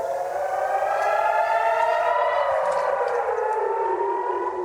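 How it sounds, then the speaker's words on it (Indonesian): A civil defense warning siren sounding for a rocket attack in Kiryat Shmona, northern Israel, its loud steady wail slowly sliding downward in pitch, continuous and alone with no talk. "Lantaran sirine tanda serangan roket Hizbullah kerap berbunyi,"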